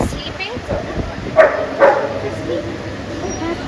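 In a husky café, a husky gives two short, sharp yips and whimpers close by, set among people talking and general room noise.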